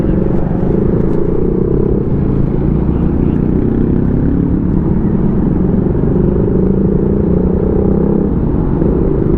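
A motorcycle rides along the road as a member of a CB110 club anniversary group ride, its engine a steady, loud, close rumble heavy with wind, continuous throughout.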